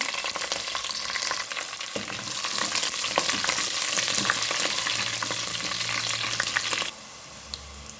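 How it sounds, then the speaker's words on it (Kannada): Crushed garlic, curry leaves and chilies fry in a pan with a steady, close sizzle and crackle, continuing for several seconds before easing slightly near the end, with no talking. "ಒಂದು ಆರು ಹೆಸರು ಬೆಳ್ಳುಳ್ಳಿಯನ್ನು ಜಜ್ಜಿ ಹಾಕ್ತಾಯಿದ್ದೇನೆ ಸ್ವಲ್ಪ ಕರಿಬೇವು ಮೇಲೆ ಕಾಯಿ ಮೆಣಸು"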